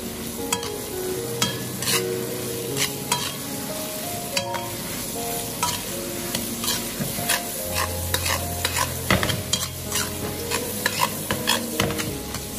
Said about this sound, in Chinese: 炒香后倒入黄瓜，再快速的翻炒，开中火将黄瓜炒至六成熟